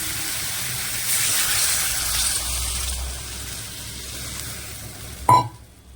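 Water poured onto fried spice paste in hot oil, a loud burst of sizzle that fades into a softer steady hiss, ending with a sharp clatter near the close.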